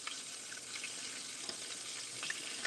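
Whiting fish and shrimp fry in hot oil in a home kitchen, a steady close sizzle with small crackles and pops running throughout, no voices.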